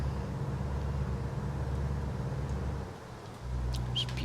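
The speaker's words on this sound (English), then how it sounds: "I do enjoy the sound in this," Truck engine and road drone from American Truck Simulator, a steady low rumble that dips briefly near the end before returning, with faint high chirps above it and no talk.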